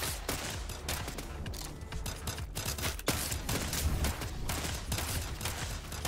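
Gunfire and reloading in the top-down co-op shooter CyberCorp: dense bursts of rapid shots with mechanical clicks and clatter between them, moderately loud and continuous, with no talk.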